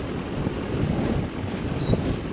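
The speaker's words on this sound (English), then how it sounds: "man, that wind is blowing." Strong wind blows across an open cattle pasture, a steady low rumble buffeting the microphone close up, with no talk.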